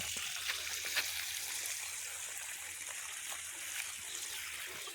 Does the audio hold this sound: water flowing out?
yes